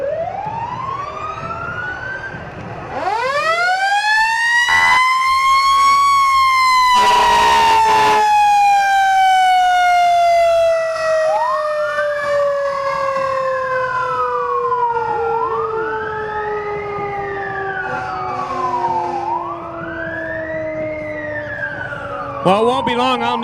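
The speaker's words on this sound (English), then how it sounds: "It's the only fun time to hear a siren is when you're at the parade." Loud fire truck sirens at a parade wail continuously, a long rising-and-falling tone followed by repeated whooping cycles, close by and dominating everything else.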